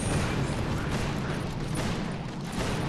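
Dense, continuous barrage of gunfire-like bursts and booms from cannons in the mobile strategy game Boom Beach, a steady loud battle wash with no pauses across the whole stretch.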